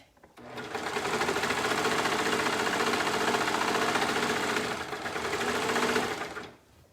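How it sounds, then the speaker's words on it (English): A sewing machine runs steadily while stitching down a shirt sleeve, a close, even mechanical whir with rapid stitching patter for about six seconds, then stops, with no speech. "Okay, so I'm sewing down the sleeve."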